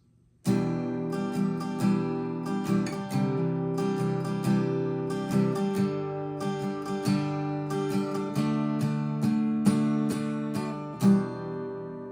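Bright acoustic guitar chords are strummed in a steady rhythm, close and clear, with a few changes and a final accented strum.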